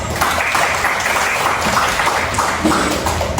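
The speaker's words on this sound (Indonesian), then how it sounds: "Kita sekali lagi berikan aplaus." Steady, loud applause from an audience of students and participants in a university classroom, continuous close clapping filling the room with no talk over it.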